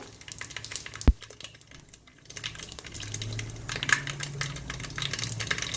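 Mustard seeds and cumin seeds drop into hot oil in a pan. A sharp knock is followed by a sizzle that builds and crackles steadily nearby.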